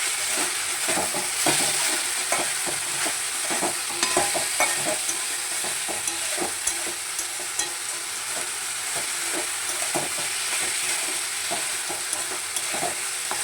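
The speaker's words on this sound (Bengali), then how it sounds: "এটা ভাজা ভাজা করতে আমার 4 থেকে 5 মিনিট সময় লাগবে।" Chicken and banana flower sizzle steadily in a hot pan, with frequent scraping and clinking strokes of a spatula stirring throughout, close and continuous with no talk.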